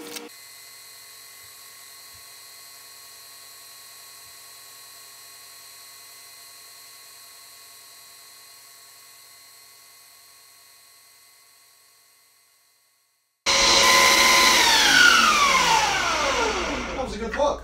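Ninja kitchen blender, heard first as a steady high whine that fades out, then after a brief silence a loud grinding roar as it starts up again close by.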